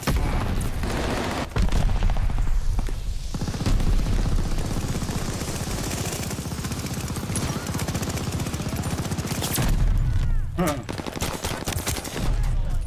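Dense, sustained gunfire around a hard point in a video game, bursts layered nearly continuously at close range with brief lulls.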